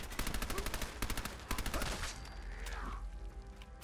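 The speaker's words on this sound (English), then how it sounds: "Who the hell is shooting at me now?" Rapid automatic gunfire directed at the player in a wasteland video game, a fast rattling string of shots for about two seconds, then trailing into echo and ambient noise.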